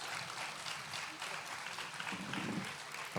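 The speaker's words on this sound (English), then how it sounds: "This big applause." Applause from an audience, a dense patter of clapping that stays fairly even for a few seconds, heard at moderate distance.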